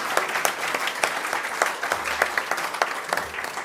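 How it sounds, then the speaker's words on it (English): An audience at a live-streamed career forum in Byron Bay applauds the streaming crew, a dense, steady patter of many hands clapping at moderate distance, sustained without pause and with no voices over it. "let's applaud the live streaming crew as well"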